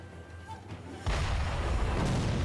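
Enemy cannon fire in the Sekiro video game: after a quiet lead-in, a sudden heavy boom bursts out and rumbles on loudly to the end.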